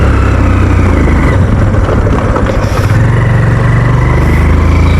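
A motorcycle rides along a rough road, its engine a loud, close and unbroken drone with slight surges from start to finish, and no one speaks.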